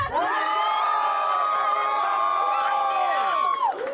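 Loud crowd at a rap battle cheering for Yung Nito, a sustained mass of shouts and whoops from many voices, dense and close, that rises and then trails off at the end.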